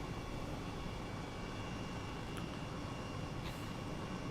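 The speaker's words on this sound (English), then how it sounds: "I'm doing a pretty good job here with a helicopter." A helicopter in Microsoft Flight Simulator flies with a steady, dense rotor-and-engine roar. The sound holds constant and close the whole way through, with no talk over it.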